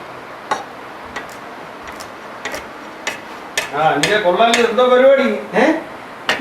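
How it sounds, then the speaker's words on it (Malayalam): A kitchen knife chops vegetables in steady, evenly spaced taps on a board, while a voice speaks over the second half. "ഇനി ഇത് അരിഞ്ഞരിഞ്ഞ് എൻ്റെ കൈ പോവേ ഉള്ളു"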